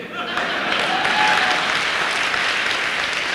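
Applause from an audience at a business success talk, a dense steady patter of many hands clapping throughout, loud and continuous, with some faint voices mixed in.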